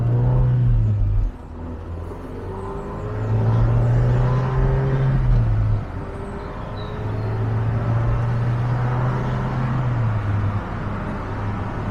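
An MG car with a K-Series engine climbs through the gears on a faster road, its hum rising in pitch then dropping at each shift, heard from inside the cabin over road rumble, with no talking.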